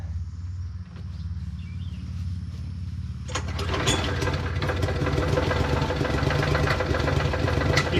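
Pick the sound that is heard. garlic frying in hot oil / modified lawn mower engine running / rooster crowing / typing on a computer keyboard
modified lawn mower engine running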